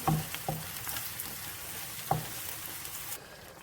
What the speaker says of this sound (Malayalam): കുറച്ച് മല്ലിപ്പൊടി ഗരം മസാല നന്നായിട്ട് വഴറ്റി കൊടുക്കാം